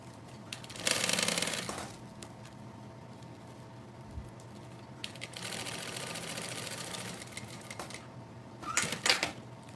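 A sewing machine stitches a bag seam, running in short rapid bursts with pauses between, including backstitching at the start and end, close and moderately loud.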